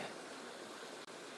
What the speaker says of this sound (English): the sound of the river flowing just behind me